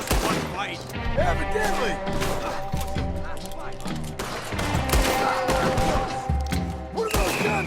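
Gunfire from a Red Dead Redemption 2 shootout, a dense run of sharp cracks and thuds over several seconds with crashes mixed in, while voices talk over the fighting.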